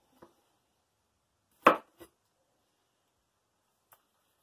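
A knife chops a jalapeno on a board: a few sparse, sharp taps, one louder cut near the middle with a quick follow-up, and a faint tap at the end, otherwise quiet.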